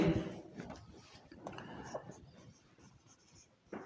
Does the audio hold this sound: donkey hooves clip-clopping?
no